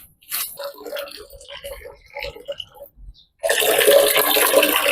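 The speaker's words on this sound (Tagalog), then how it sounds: "yung tubig mainit para hindi masyadong malamig" Warm water splashing and pouring while an elderly man is bathed, first in brief scattered splashes under nearby talk, then a steady close pour.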